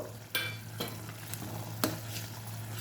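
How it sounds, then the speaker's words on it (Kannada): Vermicelli stirred into salted boiling water in a pan for wheat semige uppittu, with a steady bubbling hiss broken by several sharp scrapes and clinks of the spoon, no talk. "ಈಗ ಕುದಿ ಬಂದಾಗ ಶಾವಿಗೆ ಸೇರಿಸಿ ಒಂದು ಮಿಕ್ಸ್ ಕೊಟ್ಟು"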